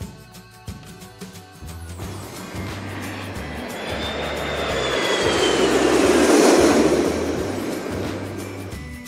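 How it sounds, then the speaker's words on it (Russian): Animated airplane flying past, its engine roar swelling from a faint whoosh to a loud peak and easing slightly, with a soft tonal whine over it and light music underneath. "Самолет."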